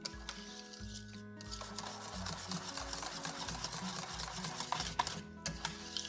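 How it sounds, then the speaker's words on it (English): Milk is stirred or whisked into a pot of chili and potato soup, giving soft, continuous scraping and swishing with light clinks from the utensil. The sound is faint and close, and no one speaks. "And gently stir that up or whisk it together."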